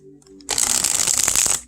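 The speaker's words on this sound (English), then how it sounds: "I'm going to try to shuffle" A new tarot card deck is shuffled in one quick riffle, a crisp rapid fluttering burst lasting about a second, near and alone after a brief quiet moment.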